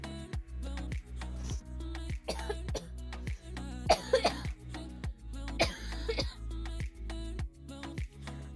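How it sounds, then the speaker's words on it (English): A person coughs repeatedly in short, harsh bursts, some with throat clearing, heard close and alone in a quiet room. "I just have a bad cough."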